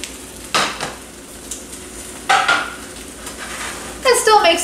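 An omelette slides back into a frying pan with several sharp metallic clatters and scrapes of pan and utensil over a low background sizzle, closing in a burst of busier clinking.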